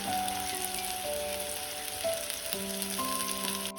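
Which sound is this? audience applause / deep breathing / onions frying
onions frying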